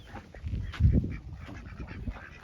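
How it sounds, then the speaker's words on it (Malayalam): Farm ducks heading off to bathe, quacking and honking in a loose cluster of calls that peak loudly midway over a busy, close background. "നമ്മൾ താറാവുകൾ എന്തായാലും കുളിക്കാൻ പോയിട്ടുണ്ട്"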